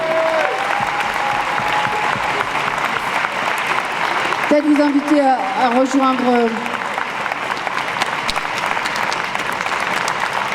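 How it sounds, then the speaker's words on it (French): Audience at a left-wing political rally applauding, a steady crowd clapping that continues while a voice speaks over it through a PA. "on peut les applaudir"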